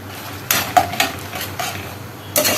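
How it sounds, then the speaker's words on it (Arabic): Small squares of Syrian bread are stirred and turned in a frying pan, a few distinct scrapes and clinks of a utensil against the pan, spaced irregularly over a quiet background. "عيش شامي مقطعاه كده مربعات صغيره، هفضل برضو اقلب فيه علشان خاطر ما ياخدش معايا لون"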